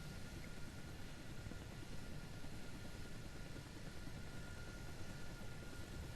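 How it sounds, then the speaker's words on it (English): Helicopter flying in Kerbal Space Program, a constant dense whooshing engine and rotor drone, steady and loud throughout with no pauses or talking. "Obviously, being a helicopter, it's nowhere near as fast as a fixed-wing aircraft."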